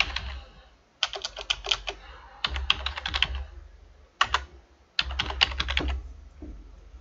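Bursts of fast typing on a computer keyboard, clustered in several separate runs with short pauses between them, close and fairly clear, no talking over it.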